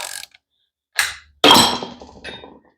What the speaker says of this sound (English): hold this and then tighten the tensioner bolt